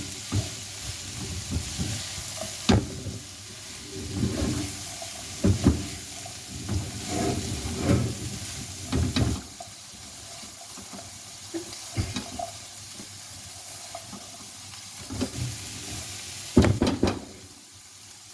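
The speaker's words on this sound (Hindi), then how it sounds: "तो हम तेज़ आंच के ऊपर चूल्हे को कर देंगे और इसको इंशाल्लाह हम फ्राई करना शुरू कर देंगे।" Shredded cabbage and mixed vegetables sizzle in a pan over high heat, a steady hiss broken by repeated scraping and stirring clatters from a spatula.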